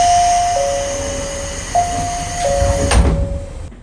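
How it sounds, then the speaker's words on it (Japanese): On a one-man local train in Hokkaido, a door-closing chime repeats its two-tone pattern several times, then the doors slide shut with a soft, heavy thud at close range, leaving a faint hum of the carriage. "さあ列車の扉が閉まります"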